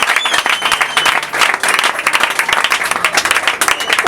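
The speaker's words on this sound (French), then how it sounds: "Vraiment, moi, j'ai besoin d'entendre les acclamations." Church congregation at an elders' consecration ceremony breaking into loud, sustained applause, a thick, pulsing roar of many clapping hands with a few faint cheers, close and continuous from start to finish.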